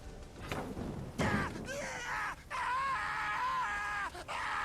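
A man screams and groans under torture in The Witcher 3: Hearts of Stone, his drawn-out, wavering cries loud and close, broken by brief pauses and a sharp impact early on.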